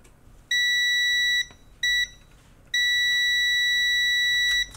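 Multimeter in continuity mode sounding a steady high-pitched electronic beep while probing a USB-C Chromebook board, in three bursts, a long tone, a short blip, then another long tone, close and loud over quiet background hiss.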